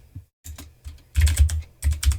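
Bursts of typing on a computer keyboard while writing HTML code, with quick clustered keystrokes separated by short pauses, close and fairly loud.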